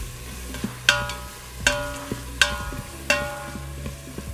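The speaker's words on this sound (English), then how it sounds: "just the spices and the onions frying together releases such a lovely aroma" Onions and spices frying and being stirred in an Instant Pot, a soft steady sizzle broken by four sharp scraping clacks of a spoon against the pot at regular intervals.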